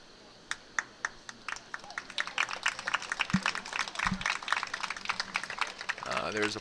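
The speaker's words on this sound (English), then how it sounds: "There's applause coming through the crowd today." Scattered, distant claps from a crowd at a high school boys' varsity soccer game, starting as a few sharp isolated hits and thickening into steady light applause, with faint talk and field noise underneath.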